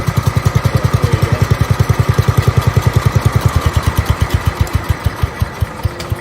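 A 1969 lawn tractor engine runs steadily and close by, with a rapid, evenly spaced low chugging beat that stays loud from start to finish and has no talk over it.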